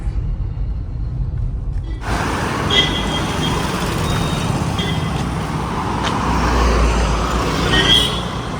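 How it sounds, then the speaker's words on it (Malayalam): Steady road traffic with cars, buses and trucks passing nearby, a dense rumbling roar that swells as heavier vehicles go by, continuous and fairly loud with no talk. "ഇഷ്ടം പോലെ വണ്ടികൾ"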